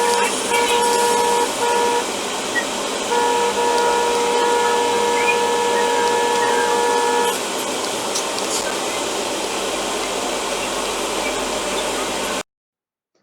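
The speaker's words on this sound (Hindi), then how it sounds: "मैं बहुत पहले से ही उसको हॉन्क कर रहा था" A car horn honks in long repeated blasts on an Indian highway between Bangalore and Hyderabad, sounding over the steady roar of driving road noise before the horn stops and only the engine and tyre rumble continues.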